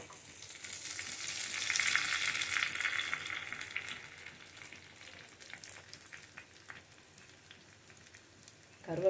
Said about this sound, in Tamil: இப்போ நம்ம கருவேப்பிலை போட்டுக்கலாம்.